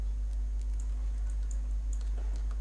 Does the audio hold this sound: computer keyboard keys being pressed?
yes